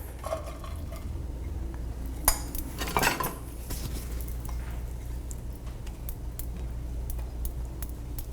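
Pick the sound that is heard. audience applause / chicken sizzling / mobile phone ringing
chicken sizzling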